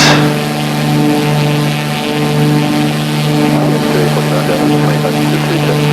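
A steady, loud aircraft engine drone with strong tonal hum fills a landing approach to Franz Josef Airport, New Zealand, in the X-Plane 11 flight simulator, continuous and unbroken throughout.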